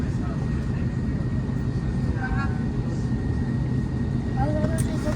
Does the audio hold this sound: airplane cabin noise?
yes